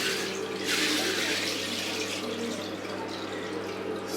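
Water gushes steadily from a tap into a hotel bathtub filling for a soak, a loud continuous splashing rush with no pauses.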